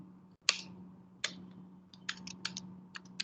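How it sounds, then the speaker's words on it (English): Keys on a computer keyboard are typed in a quiet room, a sparse run of crisp, close clicks with a few single taps followed by a quicker cluster of keystrokes. "So we can type in terminal, right?"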